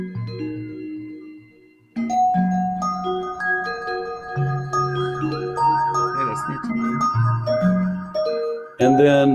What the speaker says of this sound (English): if I add it to the mimeophone, it's going to be a delay with reverb